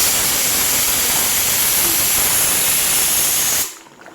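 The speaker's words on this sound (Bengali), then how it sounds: "ঝোলটা ফুটছে, দেখতে কি ভালো লাগছে" A pot of curry gravy boils with a loud, steady steamy hiss up close, which drops away sharply just before the end.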